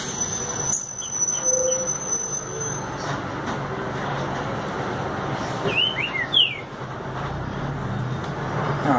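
A green-winged saltator (trinca-ferro) held in a hand gives a few short whistled chirps partway through, up close and fairly clear over steady background noise with no talking.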